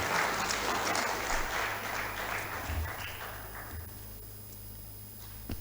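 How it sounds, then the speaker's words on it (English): An audience at a high-level policy dialogue applauds a speaker named Jonas, a sustained, moderately loud wash of clapping that gradually thins and fades toward the end. "Please give Jonas a bigger hand of applause"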